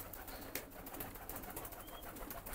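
Nun (Rahibe) pigeons coo softly inside a coop, faint low calls over a quiet, hissy background with a few brief scuffles.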